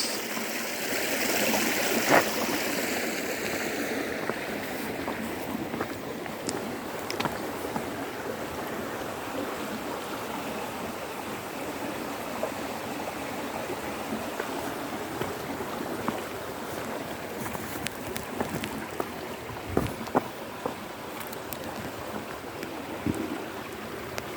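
Steady broadband rush of flowing water in the Lottering river, continuous and fairly close, with occasional small splashes and clicks; no voices.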